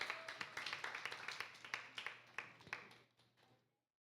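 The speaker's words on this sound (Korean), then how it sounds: "이한이한테 한번 박수로 축하하도록 하겠습니다" A Korean church youth group claps to celebrate a member's birthday, a small room of hands clapping in quick uneven bursts that thin out and stop after a few seconds.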